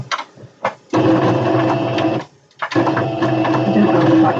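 A sewing machine stitching satin fabric in loud, close bursts: a few short taps, then a long steady run, a brief pause and another sustained run.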